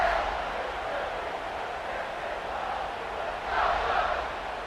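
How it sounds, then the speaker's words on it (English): Stadium crowd in College Football 26 during an Eastern Michigan versus Michigan game, a steady broadband roar of cheering that swells briefly near the end, with no talk over it. "this crowd is buzzing after that last score"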